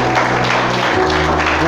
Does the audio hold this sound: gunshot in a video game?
no